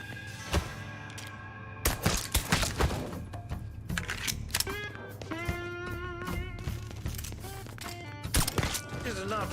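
Bursts of gunfire from the Mafia III video game ring out in sharp, loud volleys mixed with game effects, with several clustered shots and thuds over about ten seconds under a low background hum.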